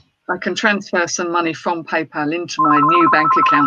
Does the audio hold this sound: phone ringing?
yes